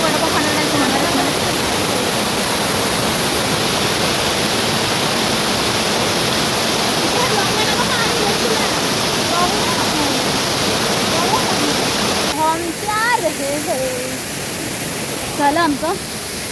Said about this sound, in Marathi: मग पाणी असं वाहत आहे